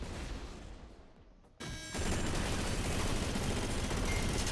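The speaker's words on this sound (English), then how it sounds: "It's a serious gun with serious fire rate." Kaida nailgun in SYNTHETIK 2 firing in a dense, rapid automatic burst, loud and continuous, picking up again after a brief drop with sustained clattering fire.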